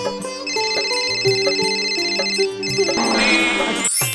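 A melodic electronic phone ringtone plays loud and close, a tinkling repeated tune that swells into a denser flourish before cutting off suddenly near the end.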